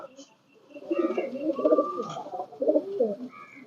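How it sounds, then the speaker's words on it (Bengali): Up close, several imported Kuwaiti pigeons coo in low, rippling phrases that rise and fall, overlapping into a continuous murmur with a faint chirp in the background. "এখানে অনেক ধরনের কবুতর আছে"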